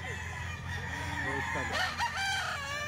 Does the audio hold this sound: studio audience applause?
no